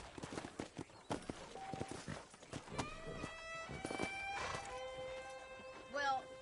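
Horse hooves clopping in Red Dead Redemption, a run of uneven hoofbeats up close with a short whinny-like cry, heard under people talking.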